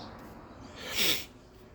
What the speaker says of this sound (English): Sorry about all the sniffling